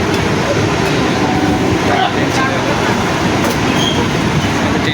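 Train pulling out of Baruipur station, a loud continuous rumble of wheels and carriages with faint squeals and clacks, heard from on board.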